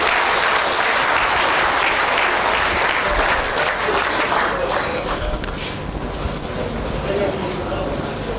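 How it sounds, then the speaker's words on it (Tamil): Audience applause at a stage event as district members are called up, a dense, steady wash of clapping running throughout at fairly close range, with rustling noise mixed in. "உங்களுடைய பலத்த கரகோஷத்தோடு ப்ளீஸ்."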